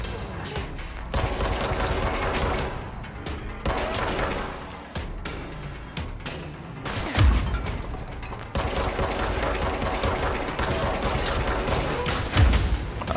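Sustained shooting in the video game Control, Medical Wing area: loud rapid bursts of gunfire with heavy booms and clattering impacts, nearly continuous over the span, with brief lulls between volleys.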